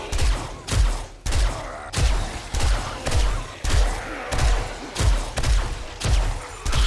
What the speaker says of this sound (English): we'll just let the shotgun take over